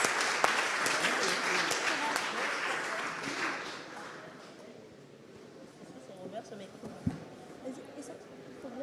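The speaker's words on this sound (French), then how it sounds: "Merci de l'applaudir." A conference audience applauds as the next speaker is called up, dense clapping that is loudest in the first few seconds and then thins and fades toward the end, with some talk underneath.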